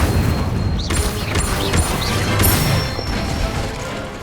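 Spell effects in Hogwarts Legacy, with the Incendio fire spell among a series of cast spells: whooshing magical bursts and rising swishes over a dense, rumbling game mix, loud and continuous with several distinct casting sweeps.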